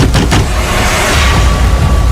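Loud heavy banging on a house door as a sound effect for a ghost story drama: a couple of quick booming knocks at the start, then a dense, rumbling low thud that lingers, with no voice.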